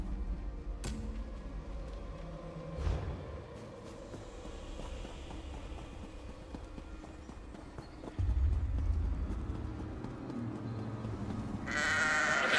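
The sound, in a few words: ghostly goats bleating, video game The Elder Scrolls Online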